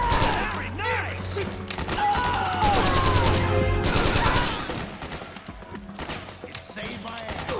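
Gunfire in Metal Gear Solid 4 with rapid, dense bursts, crashes and impacts layered over music and game sound effects, loud at first and easing off; voices speak over the action.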